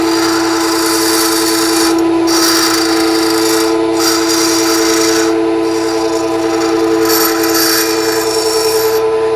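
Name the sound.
grinding wheel sharpening a radius scraper tip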